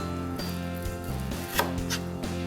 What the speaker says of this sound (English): Then I'm just going to cut it into thin slices.